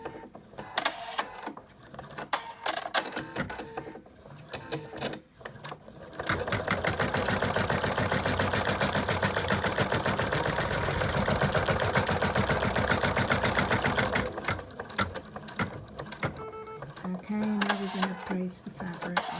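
An embroidery machine stitches a placement line, running in a fast steady rhythmic whir for several seconds, with shorter bursts of stitching and a person talking before and after.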